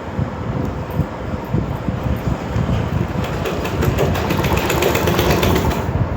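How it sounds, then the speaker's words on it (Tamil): A sewing machine stitches blouse patch pieces, a continuous loud rapid rattling drone that holds steady for about six seconds and swells slightly toward the end. "பாருங்கள் எப்படி தைக்கிறேன்னு."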